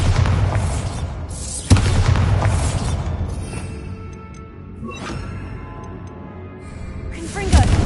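The Bombarda blasting spell in Hogwarts Legacy lands with loud, booming explosions, one sharp blast early and another near the end, over continuous heavy rumble and battle noise, with game voices mixed in.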